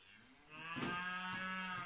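A cow on a farm land in the Mayenne region of France lets out a single drawn-out moo, faint and somewhat distant, lasting over a second with no talking.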